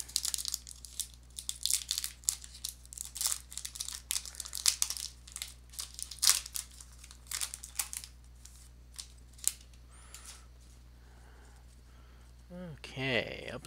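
A 2022 Upper Deck MVP NHL hockey card pack wrapper is torn open from a blaster box, with close crinkling, ripping foil and scissor-like snips, then quieter handling at the end.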